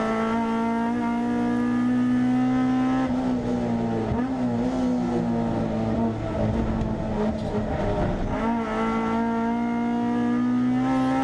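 Hot hatch race cars, including a Peugeot 106, racing at Castle Combe circuit: a loud, sustained engine drone with shifting pitch as cars rev and pass, busy and continuous throughout.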